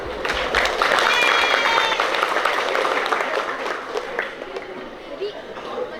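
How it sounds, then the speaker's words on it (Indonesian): Applause from an audience at a school graduation ceremony for ninth-grade students, a broad wash of clapping mixed with crowd chatter, moderately loud and fading slightly toward the end. "Baik, kita berikan tepuk tangan."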